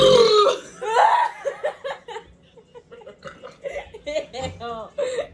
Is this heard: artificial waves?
no